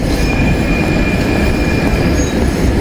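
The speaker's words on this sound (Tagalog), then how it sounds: "Ayan ang train." A train rolls past close by, a loud steady rumble of wheels on rails with a thin high squeal running throughout and no talking.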